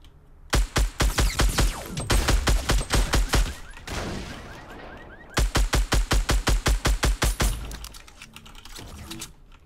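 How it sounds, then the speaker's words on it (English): Rapid automatic gunfire in the Fortnite Battle Royale video game, two long bursts of loud, evenly spaced shots with a scattered rattle between them, close and dominant. "Somebody took a shot at me."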